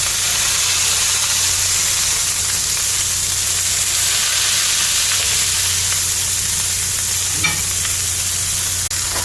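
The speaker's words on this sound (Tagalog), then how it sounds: "I have here a 60-40 patties and we will put it in the skillet" A 60-40 smash burger patty sizzles loudly and steadily in a skillet, a dense continuous hiss close by with a faint low hum underneath and a couple of small scrapes near the end.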